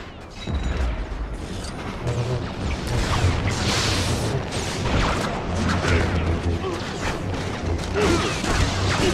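Blasts, crashes and clanking mechanical effects from a LEGO Star Wars battle with fireworks and a jetpack, dense and continuous with a steady low rumble under the whole scene.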